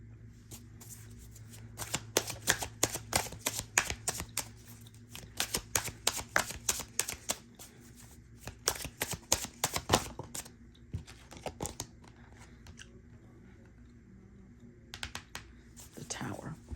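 Tarot cards being shuffled close up in a quiet room, with repeated quick riffling flutters in bursts and pauses, soft and intimate.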